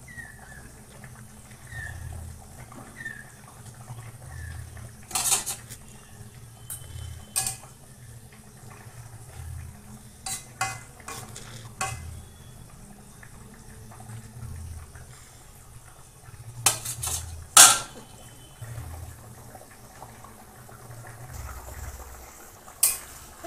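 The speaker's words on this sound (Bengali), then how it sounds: "কেটে রাখা টমেটোগুলো দিয়ে দেবো এবার" Chopped tomatoes stirred into a frying pan of pangas fish curry, with intermittent scraping, clinks and creaks from a spatula over a low bubbling background, close and without talk.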